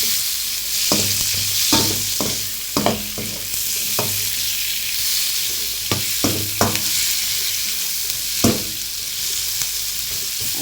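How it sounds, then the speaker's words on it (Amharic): Onions frying in oil for an Ethiopian green beans and carrot dish, a steady loud sizzle broken by several sharp knocks and scrapes of stirring. "ያው ቀይ ሽንኩርት ጠብሳለሁ።"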